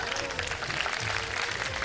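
Studio audience applauding on a live Pakistani television quiz show, a steady dense clapping wash that fills the whole short stretch without pause.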